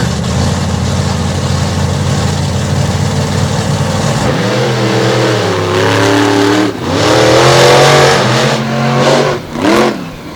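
A Hemi-powered drag race car, the Virginia Giant, idles loudly while staging, then launches with a roaring surge of revs and rising engine pitch, followed by further hard revving bursts.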